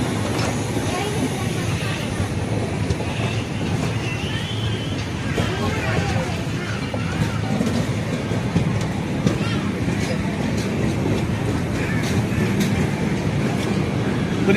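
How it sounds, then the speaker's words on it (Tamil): The Bhubaneswar–Rameswaram Express runs along the main line with a loud, steady rumble and rattle of wheels and carriages that fills the whole stretch, with voices faintly underneath. "இந்த ட்ரெயின் தான் இப்போ கிராஸ் ஆகிட்டு இருக்குது."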